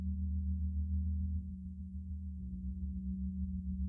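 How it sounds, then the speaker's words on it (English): Starship warp core engine hum: a steady low drone with stacked tonal layers, continuous and even, dipping slightly in the middle then resuming at a constant level, with no talk. "we listen to the dulcet tones of the warp core"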